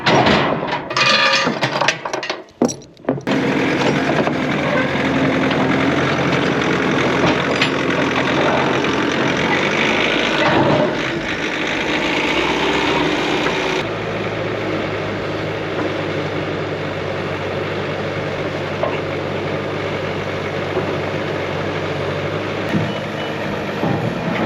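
A skid steer engine runs loud and steady near a gravel pit, its droning idle joined by a repeating reversing beep; a rattly burst sounds at the start, then the engine note shifts lower partway through.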